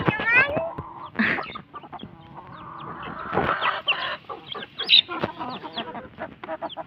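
Chickens being fed cluck and squawk close by in a steady, busy stream, with a few louder sharp calls, while people talk over them.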